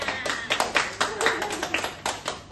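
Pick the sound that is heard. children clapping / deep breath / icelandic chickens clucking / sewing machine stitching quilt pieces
children clapping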